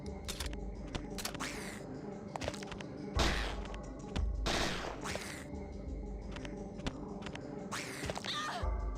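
Gunfire in Parasite Eve 2 cracks out as scattered loud shots, a few bursts standing out sharply against a busy game soundtrack with thuds between them.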